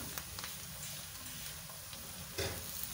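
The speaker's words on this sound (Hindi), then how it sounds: "अब हम इसमें टमाटर डाल देंगे" Tomatoes and green chillies fry in a pan for egg curry, giving a steady, close sizzle with occasional stirring clicks and scrapes, no voices.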